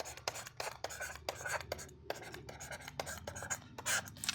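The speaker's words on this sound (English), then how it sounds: "say I write n factorial" Chalk or pen scratching out n factorial on a board in quick, dry strokes, several short bursts with brief pauses, close and fairly quiet.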